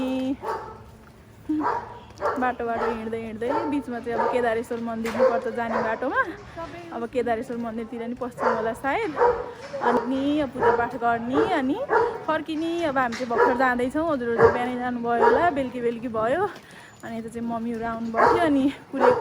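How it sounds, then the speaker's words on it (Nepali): Dog barking near a path to Kedareshwar temple, repeated yips and barks in bursts throughout, under steady talking by a woman walking. "यहाँ चाहिँ कुकुर भुकिरहेको छ।"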